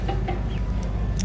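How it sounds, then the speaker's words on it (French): A hen clucks a few short, soft times outdoors on Zanzibar, almost lost in steady low rumbling background noise. "Et là il y a une poule."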